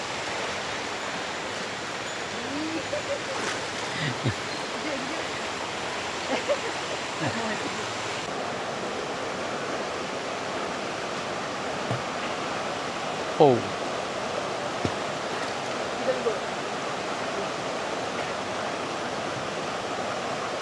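Continuous rushing river water flows steadily at a campsite where people bathe, with faint splashes and distant voices now and then.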